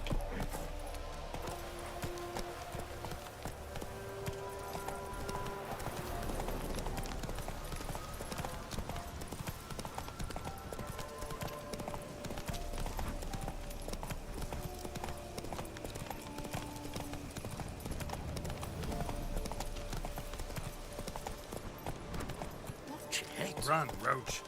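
Roach the horse's hooves clip-clop in a steady galloping rhythm in the Witcher 3 game, with a brief whinny. A person talks over the hoofbeats throughout.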